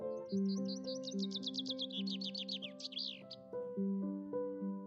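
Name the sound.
birds chirping in harmony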